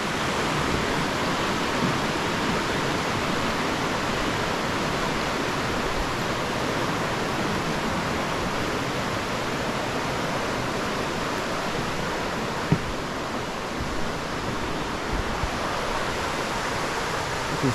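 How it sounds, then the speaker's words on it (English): A river rushes steadily along its bank on the path up to Dark View Falls in St Vincent, a dense, even, close wash of flowing water with no letup, heard alone. "on the way up to the waterfall you can hear the river on the riverbank"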